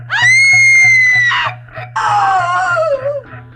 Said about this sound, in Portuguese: De repente, Larissa escuta um grito estridente.